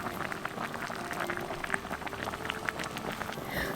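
Potato soup thickened with perilla seed powder bubbling in a small Korean earthenware pot, a close, steady crackle of simmering bubbles popping continuously with no talk.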